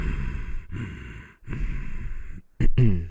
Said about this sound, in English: It's audible breathing from the back of the throat rather than the front of the nose.